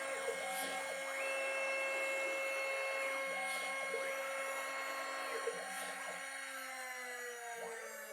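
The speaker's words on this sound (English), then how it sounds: "I've switched out the 1/8 inch end mill with a 1/8 inch drill bit, and now we can go through and drill the 6 mounting holes." A CNC spindle fitted with a 1/8 inch drill bit drills mounting holes for an LED task light. A high, steady motor whine rises and falls in pitch through several repeated drilling cycles.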